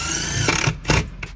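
Power drill running a 1/4 inch bolt down through a pontoon captain's chair seat base, heard as short whirring bursts of the drill motor, close and fairly loud, with brief pauses between.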